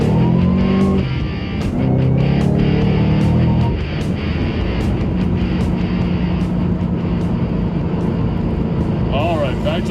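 A 750 hp Whipple-supercharged 2011 Shelby GT500 engine pulls hard in second gear and climbs in pitch before easing off, with a brief lull and then another rise, heard from inside with road noise throughout.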